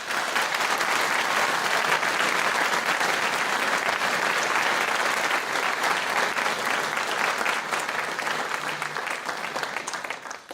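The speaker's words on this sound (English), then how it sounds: "Could you give them a round of applause, please?" Dense, sustained applause from a large audience at a school senior prize giving, a loud even roar of clapping that holds steady before easing slightly at the end.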